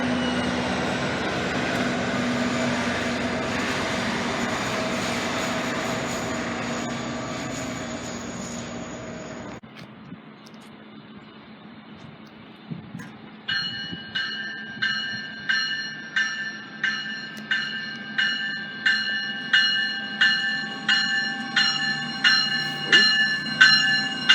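An NJ Transit GP38 diesel locomotive and train rumbling past loudly for several seconds, then fading away before a level-crossing bell starts ringing in a steady, repeated clang, with some talk in the background.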